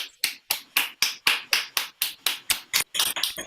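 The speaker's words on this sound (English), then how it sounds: "let's give her another huge round of applause." Sharp, evenly spaced hand claps from an audience at a graduation talk, about a dozen in a steady rhythm that quickens and crowds together near the end.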